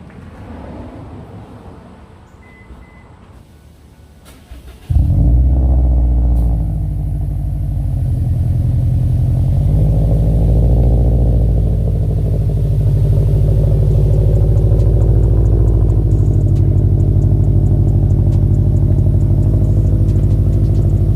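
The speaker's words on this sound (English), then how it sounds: "Let's go ahead and get a cold start for the boys real quick." A car engine cold-starts after a few seconds of quiet: a sharp crank catch, then a loud, steady high idle that stays close and strong, with slight clatter and no talk, just before a rear diffuser install.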